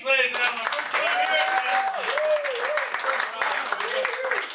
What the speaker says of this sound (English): How about a warm round of applause for Nathan Chase, ladies and gentlemen.